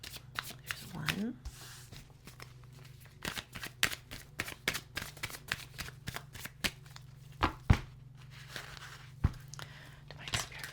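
A deck of oracle cards shuffled and dealt onto a surface: a long run of close, crisp flicks and snaps in an uneven rhythm, with soft rustling and occasional louder slaps as cards land. A low voice is faintly present.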